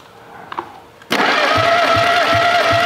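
A car engine being revived after a fire cranks briefly, then catches and settles into a loud, steady idle with a faint whine and periodic low thumps, close to the listener.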